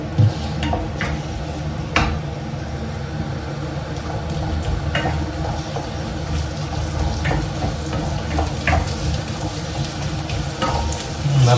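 Steady oil sizzle from a frying pan as dried curry leaves fry, with a few sharp crackles and pops breaking through the continuous hiss.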